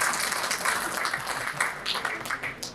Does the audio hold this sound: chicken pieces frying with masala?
no